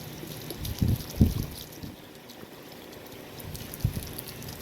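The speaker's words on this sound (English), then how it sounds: "I'm going to water this side in." A newly planted deck container garden is watered, a soft pouring and splashing of water onto soil with a few heavier gushes early on, close and moderately quiet.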